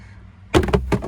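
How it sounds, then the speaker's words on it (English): A Subaru WRX glove box door is pulled up and pops off its side clips, giving a loud near burst of plastic clunks and snaps in quick succession after a quiet start. "now we're going to pull up on the glove box door."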